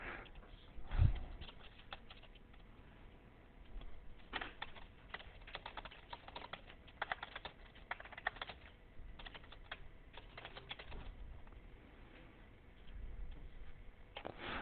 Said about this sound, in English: So let me type out these directions here.